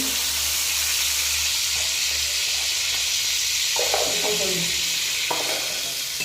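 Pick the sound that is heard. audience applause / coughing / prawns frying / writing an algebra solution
prawns frying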